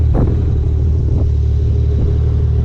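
A Porsche 911 992 GT3 engine rumbles close by, a deep steady drone with a few brief rising swells.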